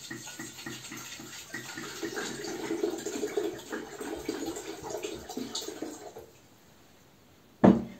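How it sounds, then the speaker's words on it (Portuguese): About a liter of water pours steadily into a pot or electric kettle for boiling into tea, a close, continuous splashing stream lasting roughly six seconds, then a short quiet before one sharp clunk. "Coloca 1 litro de água para ferver no seu fogão ou na sua chaleira elétrica."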